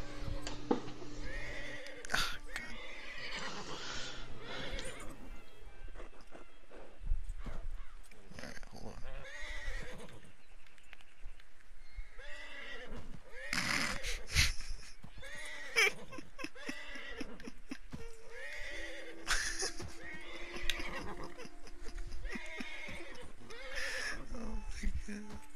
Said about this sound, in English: Stop it, my stupid horse.